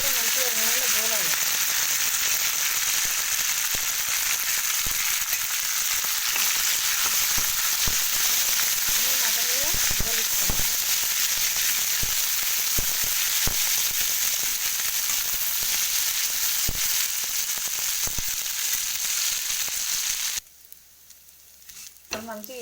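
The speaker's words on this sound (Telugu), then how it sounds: "ఇప్పుడు ఇదే నూనెలో మునగాకు వేయించుకుందాం" Drumstick leaves sizzle loudly in hot oil while cooking munagaku thoku, a steady crackling fry with light scraping and stirring throughout, ending abruptly with a short, quieter tail.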